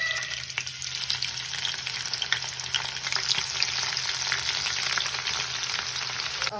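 Onions fry in hot oil in a pan with a close, continuous crackling sizzle that holds steady throughout, and no talking.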